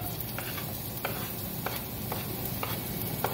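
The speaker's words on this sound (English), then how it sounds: "So I'm gonna go ahead and add the onion, so that way you get a little bit of a flavor in that oil." Chopped onion sizzling in hot oil in a pan for marlin a la Mexicana, a steady soft crackle with faint periodic clicks of stirring, no voices.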